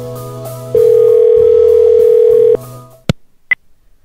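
A steady telephone dial tone hums loudly for nearly two seconds while a number is being called, then cuts off and is followed by a sharp click and a short beep.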